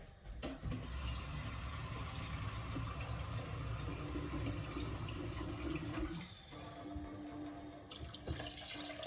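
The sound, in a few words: water running from tap to fill pot for minestrone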